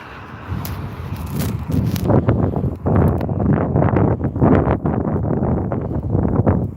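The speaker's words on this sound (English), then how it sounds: "the wind just travels along the highway because of the open space" Wind sweeps across an open highway area during a snowstorm at night, a loud, gusty roar buffeting the microphone with irregular thumps and rustles that rise and fall throughout, with no voices.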